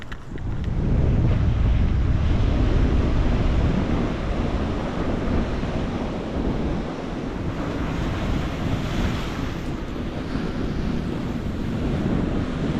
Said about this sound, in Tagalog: Malakas ang alon mga kadalos.